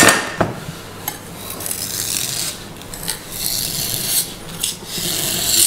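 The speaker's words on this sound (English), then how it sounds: "You shave your ice." Ice is shaved with a Japanese knife in a bar, giving close rasping scrapes in uneven strokes, with a few sharper clicks of blade on ice between them, no talk.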